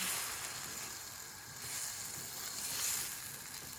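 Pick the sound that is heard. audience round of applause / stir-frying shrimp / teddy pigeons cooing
stir-frying shrimp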